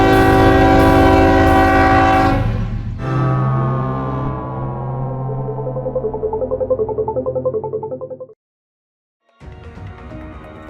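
A loud Ferromex freight train horn blares with sustained chords, then the passing train rumbles with rhythmic clickety-clack before cutting off, followed by more rail noise, in Torreón, Mexico.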